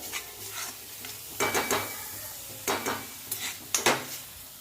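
Masala for dhaba-style shev bhaji roasts in oil over medium-low gas, with a soft continuous sizzle and a few sharp scraping stirs of a spoon against the pan at irregular intervals.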